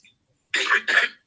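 Two quick harsh coughs in a row, close and fairly loud, with silence around them.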